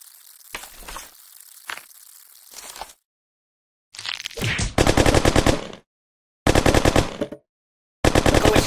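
Machine gun fire in the video game Kick the Buddy: rapid, loud, rattling bursts repeating in several clusters with brief gaps, preceded by softer scattered impacts and hiss.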